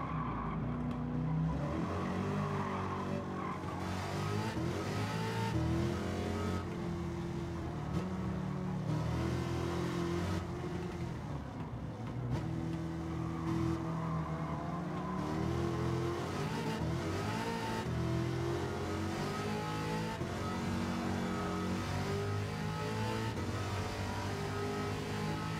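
A car engine in Gran Turismo 7 revs and holds a steady, loud drone with shifting pitch, running continuously for the whole stretch with no talk over it.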